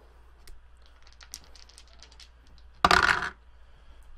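Three dice tumble and clatter across a tabletop in one quick burst during a tabletop battle game, loud and close against a quiet room.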